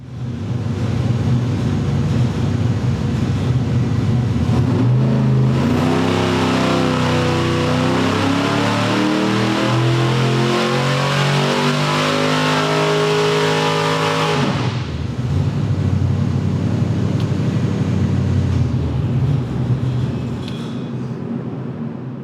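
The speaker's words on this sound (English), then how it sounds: "So we'll turn this up and we'll get it to rev out." A Ford car engine on a dyno idles, then revs hard and climbs in pitch for about ten seconds before cutting back to a loud, steady idle.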